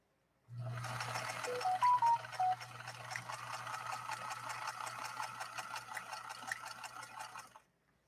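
Singer 222K sewing machine started without a hand start and run slowly, a close steady mechanical whir with a rapid even ticking of stitches for about seven seconds before stopping.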